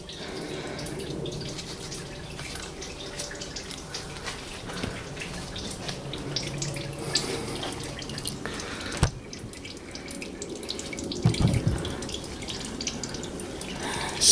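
Engine oil from the sump of a 2012 Mercedes C220 CDI draining steadily into a pan, a continuous trickling, splashing flow, fairly close and moderately loud, with no speech.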